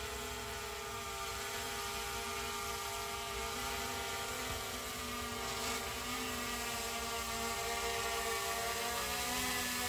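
MJX Bugs 16 Pro drone descending to land during a return-to-home flight outdoors, a steady whirring buzz with motor harmonics that stays constant and fairly loud, with no speech.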